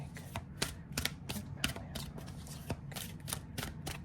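Tarot cards are shuffled close by in quick, soft riffling flicks and taps that repeat in an uneven rhythm, faint and with no talking.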